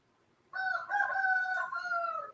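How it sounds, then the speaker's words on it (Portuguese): A rooster, probably a neighbour's, crows once in a long, loud drawn-out call close by, rising and holding before trailing off, with no talk over it. "Dá para ouvir o galo aí?"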